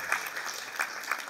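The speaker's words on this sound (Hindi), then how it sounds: "जोरदार तालियां।" Audience applause for a theatre production crew at a play's curtain call, a brief, moderately loud wash of clapping.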